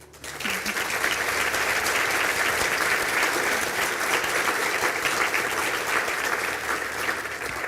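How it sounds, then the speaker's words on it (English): A crowd applauds a graduate at a spring conferring ceremony in Galway, a dense, even roar of clapping that swells in quickly after a brief quiet start and holds steady to the end. "Can I ask Chanel to receive her applause?"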